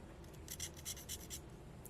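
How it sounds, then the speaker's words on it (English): Rough abrading scrapes the underside of a small bear figure for a Christmas phone holder, a quick series of about five close, dry strokes in a loose rhythm over a quiet room. "Apologies for the scratching if you don't like that."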